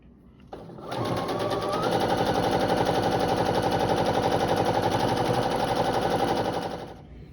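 A sewing machine joins rows of a quilt block with a loud, continuous rapid stitching chatter that spins up quickly, holds an even pace for about six seconds, then winds down.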